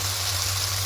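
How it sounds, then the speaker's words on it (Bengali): Water poured into a pan of cooking fish in mustard-poppy paste, a steady continuous splashing hiss with a low electrical hum beneath, close and even throughout. "এবার এখানে যে মিক্সিটা দিয়ে জলটা দিয়ে দেবো।"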